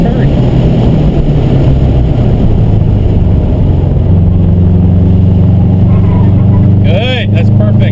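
A Subaru STI at an SCCA autocross drones loudly and steadily. The engine note shifts pitch midway as the driver eases off the throttle through a turn, close and continuous throughout.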